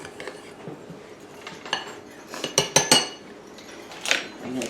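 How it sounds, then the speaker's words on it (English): Spoon or utensil clinks and scrapes against a bowl while flour is mixed with oatmeal, brown sugar, walnuts, salt and cinnamon for a fruit crumble topping; a few sharp clicks cluster near the middle, with no talking. "I'm going to mix that little bit of the flour in with the oatmeal, brown sugar, walnuts, a little bit of salt, and some cinnamon"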